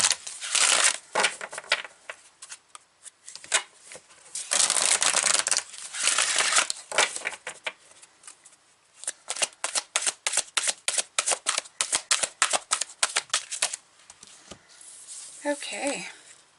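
Soul Coaching oracle cards being shuffled, with bursts of riffling and rapid flicking card sounds, close and fairly loud, with a few brief pauses.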